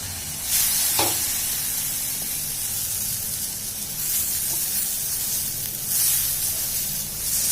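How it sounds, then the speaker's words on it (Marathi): Hot milk and water pour into a new kadhai while making sheera, with a broad hissing, sizzling rush that swells and fades a few times, steady and close, with no talking. "आणि आता घालायचं दूध आणि पाणी मी गरम करून ठेवलेलं आहे इकडे ते घालायचे"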